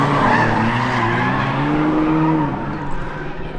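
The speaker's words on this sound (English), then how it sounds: "That is a damn pretty Miata." A Mazda Miata sweeps past at a drift event at Apple Valley Speedway, its engine note loud and droning with tires squealing and skidding, the whine rising and then fading over a few seconds, with no talking.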